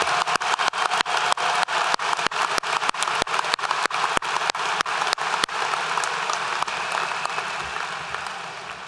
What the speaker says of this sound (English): Let's all give a huge round of applause for our teachers,